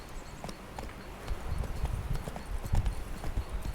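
Roach, a horse in The Witcher 3, gallops with a rapid, rhythmic clip-clop of hooves on the ground, close and steady throughout with no other sounds over it.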